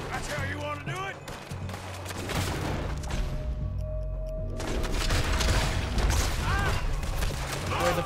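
Double-barrel shotgun blasts and other gunfire in Red Dead Redemption 2, with several loud booming reports amid a dense, chaotic firefight and excited voices talking throughout.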